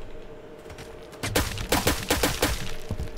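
A rapid, close burst of automatic gunfire in the Roblox shooter Phantom Forces erupts after a second of quiet and continues as a string of sharp, loud cracks.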